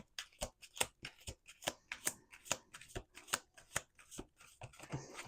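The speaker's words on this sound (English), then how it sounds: "Let's do one more shuffle." Tarot cards shuffled by hand in a run of quick riffling bursts and soft slaps, about a dozen distinct flutters, close and fairly quiet with no talk.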